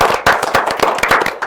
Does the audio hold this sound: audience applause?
yes